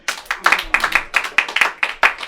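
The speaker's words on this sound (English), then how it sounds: "Clap it up if you guys have." Scattered audience clapping at a live comedy show, a few pairs of hands striking in an uneven, loose rhythm nearby with a faint voice underneath.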